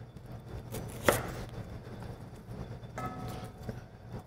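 A kitchen knife cuts down through the tender core of a cauliflower with one sharp, brief chop, close and fairly quiet against a low background hum.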